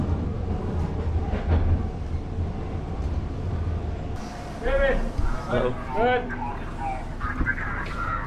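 A subway train at Kennedy Station rumbles and clatters along the tracks, a low continuous roar with voices talking over it nearby.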